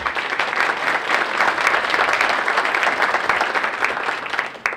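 Steady, moderately loud applause from a chamber of commerce luncheon audience welcoming panelists, many hands clapping evenly throughout before fading at the close.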